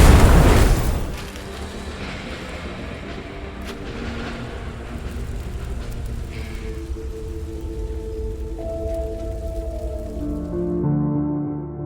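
A truck explosion bursts loudly at the start, then settles into a long, heavy rumble with crackling debris and low, fading roars.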